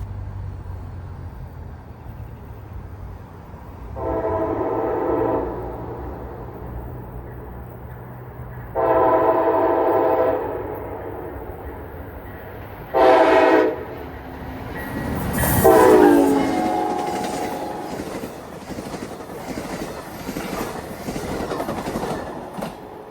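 The Amtrak 80 passenger train speeds through Thomasville, sounding three long horn blasts as it approaches, then rumbling and clattering past with a final whistle-like blare.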